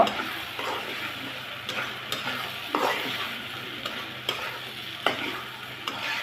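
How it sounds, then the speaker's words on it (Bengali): Shrimp and banana stem curry with chopped coriander being stirred in a pan, a soft constant sizzle under periodic spoon scrapes against the metal, close and even-paced, with no one talking. "এখন নেড়ে চেড়ে নিব।"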